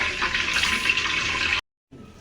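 Water poured from a tap into a pot for cooking white rice, a steady close splashing stream for about a second and a half that stops abruptly, followed by faint dripping.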